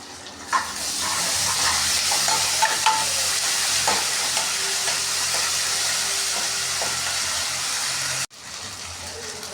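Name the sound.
cumin, turmeric and ginger paste frying in pan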